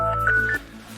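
A mobile phone gives a brief electronic tone sequence of a few bright notes, heard close by at a campsite beside a motorcycle camping tent, then it falls quiet.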